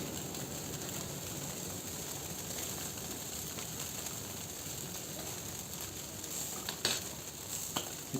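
Sea bream sizzles softly on a charcoal grill, a steady faint hiss and crackle with a few sharper pops toward the end.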